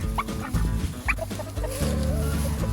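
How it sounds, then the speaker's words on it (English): A speckled Sussex hen clucking close by in a pasture, with a few short clucks and soft murmuring calls over a busy farmyard background. "this is Speckles, our speckled Sussex"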